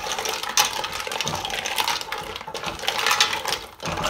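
Mussel shells stirred slowly in a pot with white wine, giving a steady, close clatter and scraping of shells against each other and the pot, with no talking.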